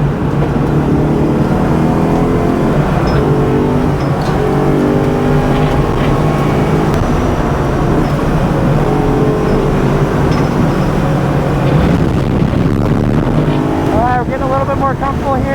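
A Corvette C6 drives on a race track, its engine droning loud and steady with shifting pitch and heavy wind buffeting, ending in a rising whine.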